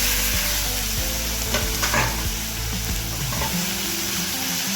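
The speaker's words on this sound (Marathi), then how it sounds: "त्यामध्ये थोडंसं तेल टाकायचं आणि हे भाजून घ्यायचे आपल्याला कारलं." Loud, constant sizzling of bitter gourd roasting in a little oil in a pan, with a spatula scraping and stirring now and then; no talking.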